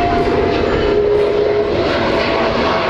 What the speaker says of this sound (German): Das war hier Airbus Beluga.